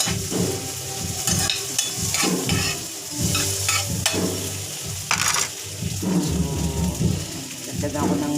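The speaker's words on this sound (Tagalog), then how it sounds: "So yan, ginigisa ko siya." Ground meat sautéing in oil in a pan, a loud, steady sizzle broken by repeated scraping and stirring strokes of a utensil, close up and without talk.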